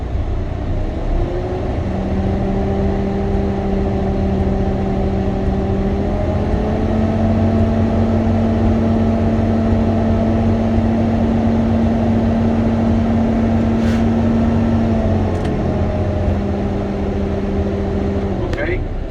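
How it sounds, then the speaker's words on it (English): A large truck's engine idles and revs to build air pressure, a steady droning hum that rises and shifts in pitch, continuous and close, with brief faint clicks, heard from inside the cab. "we're gonna go ahead and give it some gas to build up the air pressure"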